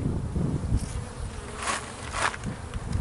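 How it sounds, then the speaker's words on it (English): Robber bees swarming a hive fill the air with a steady, dense insect buzz that swells now and then as individual bees fly close past, with no voices. "Robber Bees"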